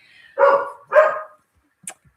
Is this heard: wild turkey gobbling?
no